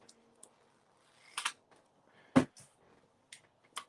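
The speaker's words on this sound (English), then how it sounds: "Y'all heard the pages turning in the background?" Library book pages turn in a quiet room: a handful of separate crisp flips and rustles, each short and fairly close, with near silence between them.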